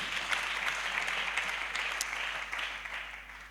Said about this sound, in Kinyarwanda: tuyikomerera amashyi menshi.